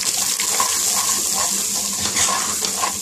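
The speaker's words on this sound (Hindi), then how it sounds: "थोड़ा सा पानी ऐड कर देंगे ताकि हमारा नीचे न लगे मसाले।" Water poured into a pot of cooking spices such as turmeric and coriander powder while making red lobia (kidney beans), a steady close splashing pour that runs alone for the whole stretch.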